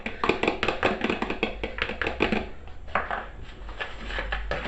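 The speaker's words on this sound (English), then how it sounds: "So first thing we want to do is we want to mix our vegetables, or our onions and pepper, into the couscous." A utensil scrapes and taps against a bowl while onions and pepper are mixed into couscous, giving a run of close, irregular clicks and scrapes with no talking.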